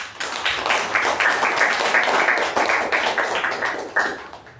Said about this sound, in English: let's give Toastmasters Sindhushree a huge round of applause